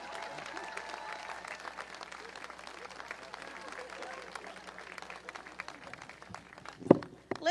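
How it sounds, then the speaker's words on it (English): Outdoor crowd applause at a statue unveiling ceremony for a coach, fairly faint and spread out, with speech mixed in and a sharp close knock near the end. "Clap it up."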